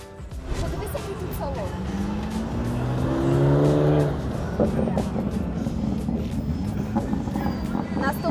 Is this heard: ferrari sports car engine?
yes